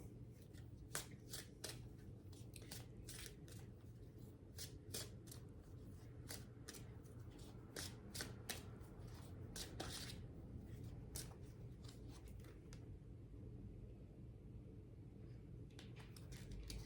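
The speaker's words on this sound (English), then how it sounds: "I'm going to draw an angel card for you." Angel cards shuffled by hand for a card reading, a steady run of crisp riffling flicks and slaps close by, with low room hum underneath and no talking.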